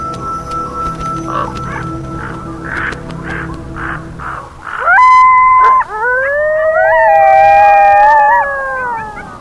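Coyotes howl in drawn-out, rising and wavering calls, loud and fairly close, after a stretch of rhythmic croaking calls from ravens.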